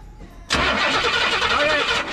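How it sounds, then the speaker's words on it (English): A 1967 Cadillac that sat for 15 years cranks briefly, then catches and starts, settling into a loud, steady running engine right up close. "Jen, go ahead and crank it."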